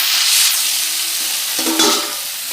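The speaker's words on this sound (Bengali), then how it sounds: "আমি তো মশলার সাথে বাকি সবজিগুলো কষিয়ে নিচ্ছি" Vegetables with spices being sautéed in a pan, a bright continuous sizzle with a brief stirring scrape near the end, close and loud, no speech.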